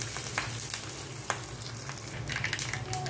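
Spices for a tempering fry in hot oil for a cabbage and moong dal curry, giving a steady, close crackling sizzle with occasional sharper pops and stirring scrapes throughout.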